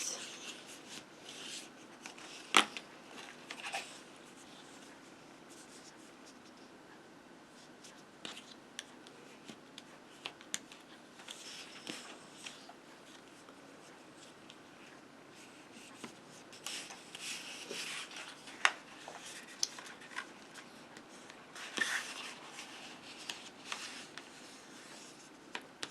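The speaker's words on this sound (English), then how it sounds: "Might have been smarter to burnish them before you cut the pieces out" Scoring tool or bone folder rubbed along score lines on cardstock while making a box for A2 cards and envelopes. Soft, faint scratchy rubbing strokes repeat irregularly, with occasional light taps and paper handling.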